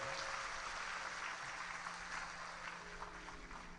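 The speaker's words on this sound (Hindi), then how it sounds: "जोरदार ताली बजाओ।" A large audience claps at a Shiv Mahapuran religious discourse in Sehore, Madhya Pradesh, a continuous faint wash of applause heard at a distance.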